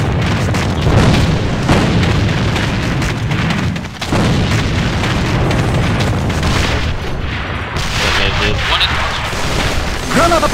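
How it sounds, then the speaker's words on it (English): A grenade explosion in the shooter game AVA: loud, heavy booms and rumbling blasts over several seconds, with a voice speaking throughout. "Граната противника! Бросаю гранату!"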